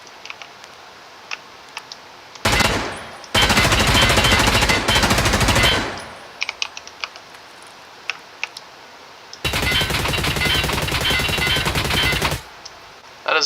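Suppressed rifle fire in a video game comes in two long rapid bursts, dense and sharp, with quiet gaps and a few isolated clicks and shots between them.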